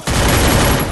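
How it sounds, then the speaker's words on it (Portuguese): Automatic gunfire from the Free Fire video game erupts in one loud, dense burst of rapid shots lasting under a second. "Dei muito tiro no Brabox."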